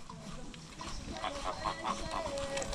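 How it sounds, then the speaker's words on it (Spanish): Several geese honk in short, repeated calls at Laguna el Encanto, moderately distant and mixed with background outdoor noise. "Miren los gansos."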